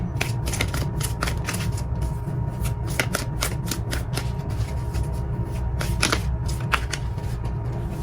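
Tarot cards are shuffled and drawn nearby in steady bursts of crisp, papery flicks and snaps over a constant low background hum.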